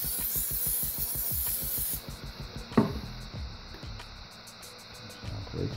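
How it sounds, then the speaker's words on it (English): Cooking oil sprays from a can onto an air fryer basket pan, a steady loud hiss lasting about two seconds, then quieter clicks and handling noises of the metal basket. "we're gonna spray the pan."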